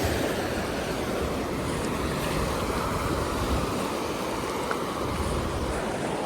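Continuous wash of sea waves breaking on a shore, a steady hissing roar with some wind, no voices.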